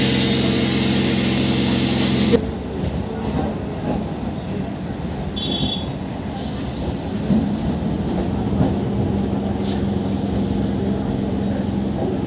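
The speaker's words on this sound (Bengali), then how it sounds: "আর এখানেই হয়ে গেল দুটো ট্রেনের ক্রসিং।" Two local trains cross at a suburban station on the Howrah–Amta line: a loud passing rush cuts off abruptly, then the steady rattle and clickety-clack of the moving carriage continues with faint squeals and occasional thumps.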